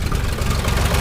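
A John Deere 2240 tractor's diesel engine idles just after a cold start, a steady, loud low rumble running unbroken and close by.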